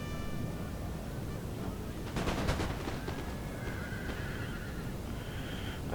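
Horses whinny amid faint battlefield noise in a multiplayer battle video game as cavalry moves in, with a few sharp cracks of gunfire over a constant background din.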